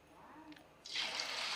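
Chicken leg pieces for street-style Chicken 65 dropped into hot oil, a loud broadband sizzle bursting in after a quiet start and holding steady, close by.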